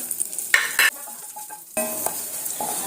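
Crushed garlic tossed into hot oil for an amla powder, bursts of sizzling and frying with clattering of a spoon against the pan, pausing briefly in the middle before resuming.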